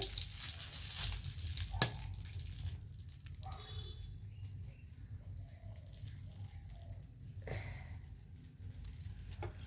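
Whole spices sizzle in hot oil for tempering in a vegetarian carrot dish, a close, steady hiss with a few clinks and stirring scrapes as the pan is worked.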